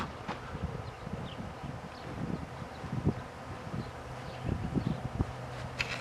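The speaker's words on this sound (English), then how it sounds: "There's a bee's nest, a big one, somewhere around here." A low, continuous insect hum from a large bees' nest fills the air, with buzzing bees drifting close and away amid soft outdoor rustling.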